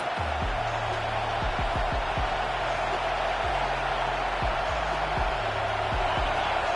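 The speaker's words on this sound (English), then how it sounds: "Listen to this crowd just shaking the girders of this place, trying to help their defense." Dense stadium crowd roaring steadily at a college football game between Missouri and Florida, a constant loud wash of cheering and noise with low thumps scattered through it.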